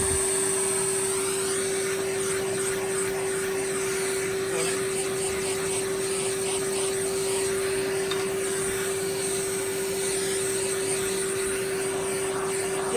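Hoover Junior U1012 upright vacuum cleaner with its newer 1970s motor running continuously, a loud steady whine with a strong constant pitch and no break from start to finish.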